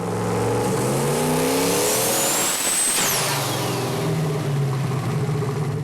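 A turbocharged junkyard Ford 460 big-block V8 running 24 psi of boost revs hard and loud, its pitch climbing steadily then dropping sharply as the throttle closes, followed by a whooshing turbo spool-down and a rumbling idle.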